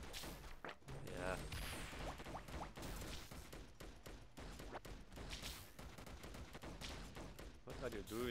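Gunfire in the video game Defend Your Life, rapid continuous bursts of shots and thumps throughout, with players talking over the game sounds.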